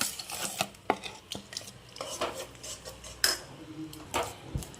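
Biscuit halwa batter stirred in a hot pan with oil and ghee, a utensil scraping and clinking against the metal in uneven strokes, close and moderately loud with no talking.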